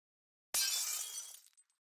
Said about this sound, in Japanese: ハウルは部屋の上のガラスを壊して外に出ます